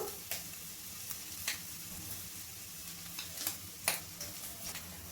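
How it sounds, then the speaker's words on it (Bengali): Eggs fry with vegetables in a pan, giving a soft, steady sizzle with scattered light clicks and scrapes of stirring. "ডিমটা আমি সবজির সাথে ভালোভাবে ভেজে নেব।"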